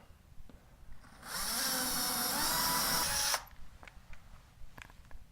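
A power drill with a 1/8 inch bit bores into a wall, one steady high whine lasting about two seconds, close and fairly quiet, with faint handling clicks around it.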